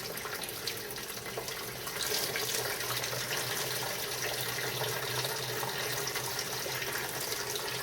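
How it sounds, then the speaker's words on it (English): Hot 170-degree water trickles and splashes over grains while sparging home-brewed beer in a kitchen, a steady faucet-like flow that rises slightly after two seconds and continues evenly throughout. "We're basically rinsing the grains,"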